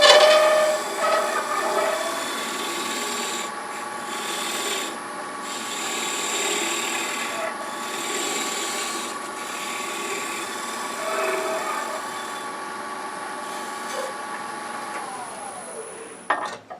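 Gouge cutting a wet Bradford pear bowl on a wood lathe, a continuous hissing, rasping shear with a faint motor hum, close and steady with slight swells as the tool moves.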